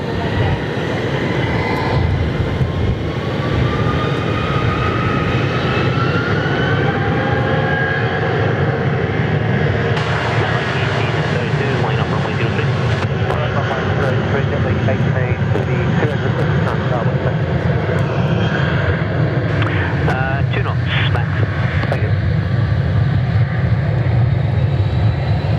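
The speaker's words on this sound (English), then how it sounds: "All right, clear for takeoff now. Off they go. A couple of A320s ready to go." Airbus A320 jet engines roar steadily during takeoff at Perth Airport, a loud sustained rumble with a rising whine heard from a distance.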